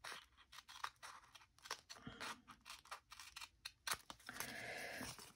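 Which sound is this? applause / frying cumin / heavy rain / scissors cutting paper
scissors cutting paper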